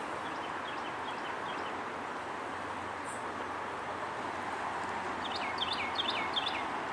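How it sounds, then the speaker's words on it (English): Birds chirping near riverside rail tracks in the flooded River Arts area of Asheville, North Carolina: faint scattered chirps and tweets, clustering toward the end, over steady broadband background noise. "hear the birds chirping"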